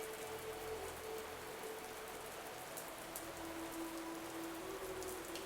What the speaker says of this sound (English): Pitter, patter, pitter, patter. I need to write a poem about rain.